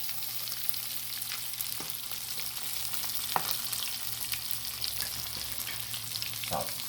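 Meatballs for subs frying in a pan and browning to a golden crust, a steady close sizzle with a few light taps and scrapes.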